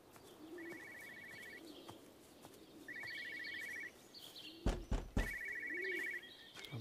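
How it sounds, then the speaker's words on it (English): A telephone rings in the game Everybody's Gone to the Rapture, three short electronic trilled bursts spaced a couple of seconds apart, faint and distant, over quiet outdoor ambience with birds cooing and a couple of sharp knocks. "I hear another phone over there"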